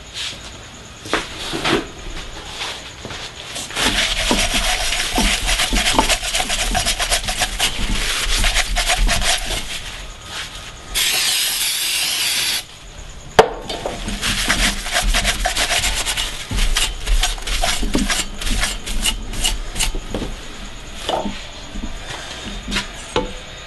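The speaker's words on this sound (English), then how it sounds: "cleaning up these marks, trying to get them off" Marker marks are rubbed off a scooter deck with cleaner in a rapid, sustained back-and-forth scrubbing rasp, close and moderately loud, with a brief pause midway and no speech.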